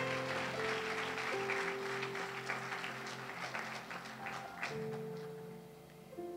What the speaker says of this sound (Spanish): Vamos a darle una ofrenda de palmas al Señor.